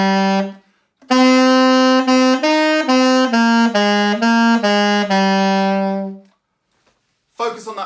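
Saxophone playing an intro riff, a clear run of separate tongued notes across about five seconds, close and bright, with a short pause before and some noise after.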